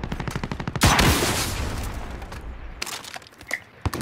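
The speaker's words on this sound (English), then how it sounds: "Shots on the hill" Call of Duty: Warzone gunfire opens with a rapid burst of close shots, then a loud heavy report with a long rumbling tail, followed by a few scattered shots.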